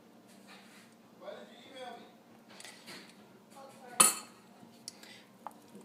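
Utensils clink and scrape against a bowl while glycerin is mixed into a homemade fondant mixture of Crisco, with a sharp clink near the end and a voice talking throughout.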